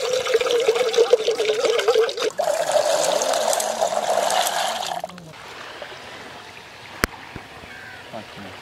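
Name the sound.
water poured to soak field beans (mochai)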